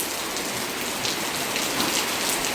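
Steady moderate rain falls and patters on surfaces, a dense, even hiss with no voices.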